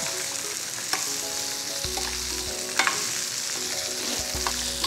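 Chopped onion and curry leaves frying in a pan for peanut chutney, a steady bright sizzle with a couple of utensil scrapes and stirring knocks, close and continuous with no talk.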